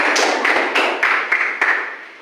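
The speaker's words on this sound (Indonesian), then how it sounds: "tepuk tangan untuk kelompok kedua" A small group of students claps briefly in an Indonesian classroom, a few quick bursts of close hand claps and taps lasting about two seconds with no talking over them.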